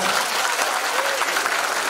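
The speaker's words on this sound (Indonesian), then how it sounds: "tepuk tangan dulu untuk Pak Rektor" An audience at a university lecture applauds the rector, a dense, steady clapping that fills the hall at full strength throughout.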